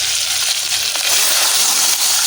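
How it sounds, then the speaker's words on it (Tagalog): Water is poured steadily into a cooking pot, making a continuous loud gushing and sloshing rush that lasts throughout with no voices. "lagyan na natin ng tubig mga kasaka"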